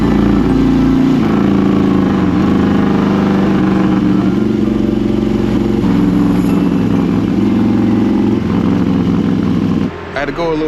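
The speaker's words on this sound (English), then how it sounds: "I'm on a air-cooled motorcycle and they're moving pretty slow on the highway" An air-cooled motorcycle engine drones steadily at cruising speed on a highway, a loud low rumble close up with wind noise, shifting pitch slightly, then a brief change near the end.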